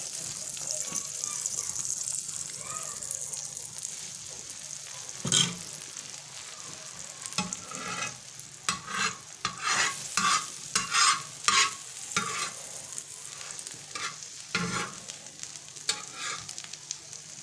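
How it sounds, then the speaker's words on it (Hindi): A Lahori bun plaster, an egg-coated bun, sizzles and fries on a hot griddle while it is toasted on every side. Spatula scrapes and stirs sound close by, and a voice speaks now and then. "अब इसको हम हर तरफ से इस तरीके से सेक लेंगे जो हमने अंडा लगाया हुआ है, ताकि वो भी पक जाए।"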